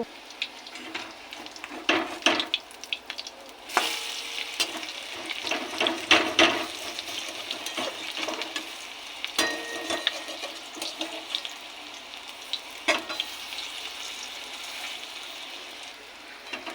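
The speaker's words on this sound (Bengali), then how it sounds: "সম্পূর্ণ বড়াগুলো তেলে ছেড়ে দিয়েছি এবার লাল করে ভাজবো" Prawn-head fritters deep-frying in hot oil, a continuous bubbling hiss broken by louder crackling bursts and spatters, heard up close with nobody speaking.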